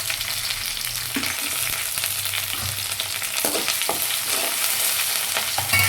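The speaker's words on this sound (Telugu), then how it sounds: "కొంచెం ఆవాలి కొంచెం జీలకర్ర వేసుకుందండి" Mustard seeds and cumin sizzle and crackle steadily in hot oil, with scattered pops and a few louder spits, close and continuous with no voices.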